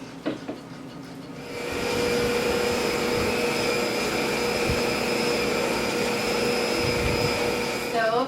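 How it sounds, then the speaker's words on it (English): Stand mixer creaming butter and sugar in a bowl, a steady loud motor whir with faint beating underneath that starts after a few clicks and runs continuously. "So right now I'm creaming the butter and the sugar."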